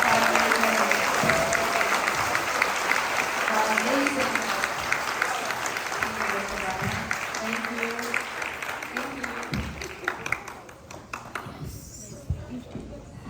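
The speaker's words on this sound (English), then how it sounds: "give them a big round of applause" Audience applause at a book tour event with Q&A at OCAD University, a steady wash of clapping that fades near the end while voices and cheers carry over it.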